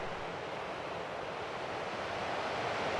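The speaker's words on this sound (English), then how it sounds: "All that rain had got the Highwood flowing pretty good." The Highwood River runs high and muddy after rain, a steady, dense rushing of water with no pauses, moderately loud and continuous throughout.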